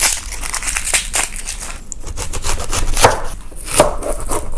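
A knife chops onions in rapid, loud, repeated strokes on a cutting board, forming a dense close-up crunching rhythm with brief pauses between bursts.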